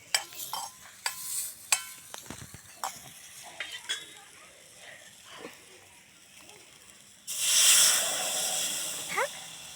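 Water poured into a hot, burning pan sets off a loud, close sizzling hiss late on, after a stretch of scattered clinks and stirring scrapes.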